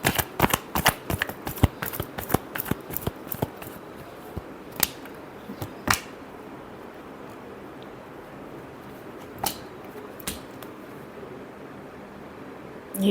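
Tarot cards are shuffled by hand in a quick flurry of crisp riffling snaps, then a few scattered slaps and flicks spaced out over a quiet background.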